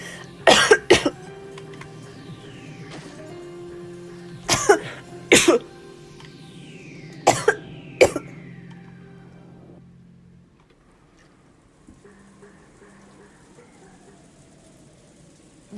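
Coughing sound effect in a visual novel, three close pairs of sharp coughs over a soft background music bed that fades near the end.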